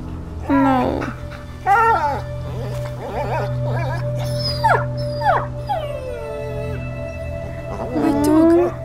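A dog in the video game A Plague Tale: Innocence whimpers, yips and howls in several close, high-pitched bursts, with a steady low drone and a tone running underneath.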